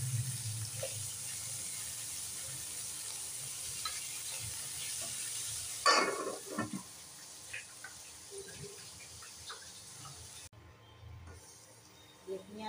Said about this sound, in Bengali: পেঁয়াজ আলুটা ভাজা ভাজা হয়ে এসছে